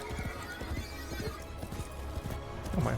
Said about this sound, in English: Oh, my horse has an ability.